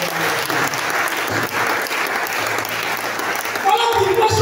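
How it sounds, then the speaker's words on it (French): Church congregation clapping and cheering in applause for a few seconds, steady and full, with a voice rising over the crowd near the end. "Oh, donne les acclamations."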